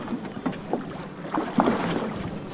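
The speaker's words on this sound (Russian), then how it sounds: "Движение судов очень интенсивное." Boats, patrol craft and tugs moving on the Black Sea near the Crimean bridge give a steady low engine drone, with water slapping and splashing against the hulls and gusty wind buffeting the microphone.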